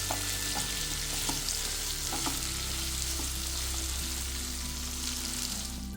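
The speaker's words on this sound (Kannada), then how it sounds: "ಇಲ್ಲಿ ನಾನು 1 ಕಪ್ಪಷ್ಟು ಗೋಡಂಬಿ ಹಾಕ್ತಾ ಇದ್ದೇನೆ ಮತ್ತು 4 ಎಸಳು ಬೆಳ್ಳುಳ್ಳಿ ಅದಕ್ಕೂ ಹಾಕಿ ಸ್ವಲ್ಪ ಹೊತ್ತು ಫ್ರೈ ಮಾಡ್ತಾ ಇದ್ದೇನೆ" About a cup of cashews and four garlic cloves frying in a pan for a dhaba-style egg masala: a steady, close sizzle with a few soft stirring clinks and no talk.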